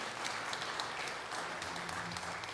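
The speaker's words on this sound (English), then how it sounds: "Let's give this band a nice round of applause too, shall we?" A church congregation gives the band a round of applause after the service, a steady wash of clapping filling the short stretch without speech.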